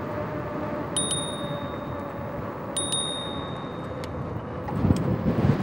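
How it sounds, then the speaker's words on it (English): A bicycle bell on a moving e-bike rings twice, a bright ding about two seconds apart, over steady wind and road rumble that grows rougher near the end. "I will not hit them with the bell"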